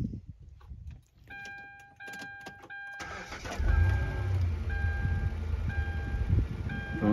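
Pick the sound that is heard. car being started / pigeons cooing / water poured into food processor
car being started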